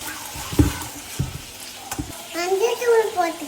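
Tomato and curry leaves go into hot oil for fish curry, giving a few sharp knocks and scrapes of a spoon on the pan followed by a rising sizzle, with a voice briefly audible.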